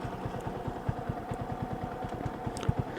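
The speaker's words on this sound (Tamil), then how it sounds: "வண்டி கொஞ்சம் ஆனில் இருக்கட்டும்." A motorcycle engine idles nearby on a hill road in Kolli Hills, Tamil Nadu, its low, even putter pulsing in a steady rhythm without speech.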